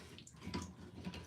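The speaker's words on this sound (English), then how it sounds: "I'm just going to go ahead and remove this portion. You're going to have some water coming out" Water spills and trickles out of a toilet tank as the fill valve is pulled free, a soft, close, continuous splashing gurgle lasting about a second, with no talking.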